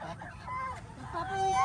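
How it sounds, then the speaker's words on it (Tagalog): A goose honks a few times nearby in a rural yard in Guimba, Nueva Ecija, short nasal calls over faint background noise. "Tingnan mo, ang ganda ng gansa."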